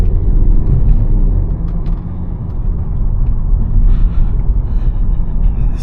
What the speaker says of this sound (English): I'm just booting it, so it's quite responsive to throttle input.